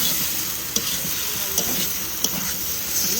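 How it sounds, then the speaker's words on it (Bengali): Potatoes sautéing in a pan, with a steady close frying sizzle and a few sharp clinks of a utensil stirring against the pan. "আলুটা একটু কষে নিয়েছি"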